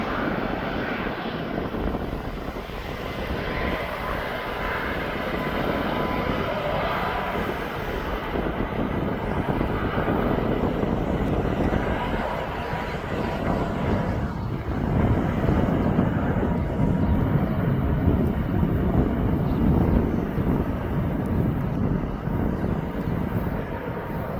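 An Ethiopian Airlines airliner departs East Midlands Airport heading north toward Derby, its engines producing a steady, loud, broadband roar that swells slightly and stays continuous throughout.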